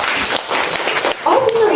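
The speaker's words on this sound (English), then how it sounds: "A round of applause." A school class debate audience claps for a guest teacher, a short burst of applause that breaks off as a voice begins speaking over it.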